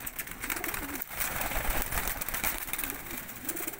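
A pet pigeon coos in a low, rolling call that repeats a few times, under a steady noisy background with faint voices.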